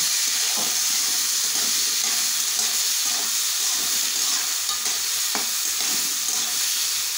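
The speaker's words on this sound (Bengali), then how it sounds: "মটরশুঁটি, কাঁচা লঙ্কা, সব একসাথে নেড়ে চেড়ে দেবো।" Peas, carrots and green chillies being stirred together in a frying pan for sabudana pulao, with a steady close sizzle and the occasional scrape of a spoon throughout.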